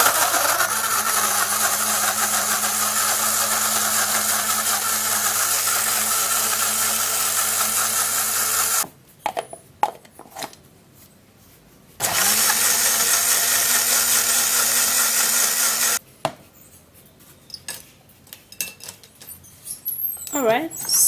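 A small coffee blender whirs loudly and steadily in two bursts, about nine seconds and then four seconds long, with brief quiet pauses and faint clattering between and after the runs.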